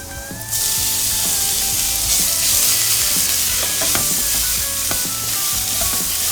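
Minced ginger and carrot stir-frying in hot oil in a pan, a steady close sizzle with soft scraping and stirring clatter throughout, no voices.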